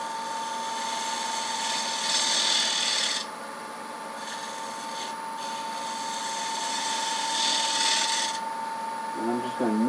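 A wood lathe cuts a dovetail recess into a Bradford pear bowl blank, a continuous rasping, scraping tool-on-wood sound over a steady machine hum, easing off briefly mid-cut before resuming, with a voice murmuring faintly at the end.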